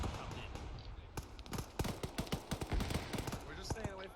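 Rapid bursts of gunfire in the military video game Arma 3 during a realism squad exercise, sharp cracks from about 1.5 seconds on, with radio chatter and talk running underneath.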